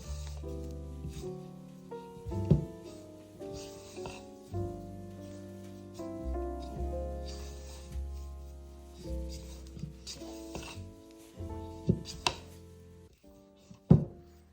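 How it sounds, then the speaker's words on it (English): Sticky no-knead bread dough stirred in a bowl, giving soft irregular squishing and thudding strokes with a few sharper knocks against the bowl, close and fairly quiet with no talking. "You're going to stir until your dough comes together."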